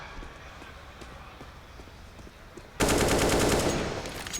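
AK rifle gunfire in Counter-Strike during a NaVi vs Outsiders match at IEM Katowice 2023: faint footsteps and distant shots give way to a loud sustained burst of automatic fire.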